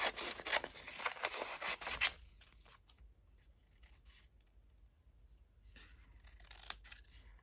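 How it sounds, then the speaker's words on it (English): Scissors snip through printed paper for a junk journal, with rapid crisp cuts up close for about two seconds, then a few faint rustles and one more short snipping run near the end. "Okay, I'll just cut that off there."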